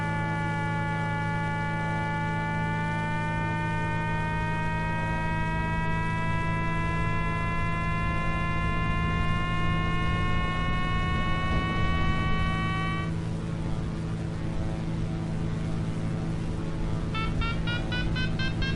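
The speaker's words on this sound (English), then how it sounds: "That beeping you're hearing is the variometer." The variometer in a DG-808S competition sailplane flight simulator gives a continuous electronic tone that climbs slowly in pitch over a steady engine-like hum, then breaks into rapid short beeps.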